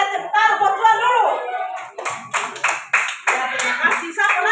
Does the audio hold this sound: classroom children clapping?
yes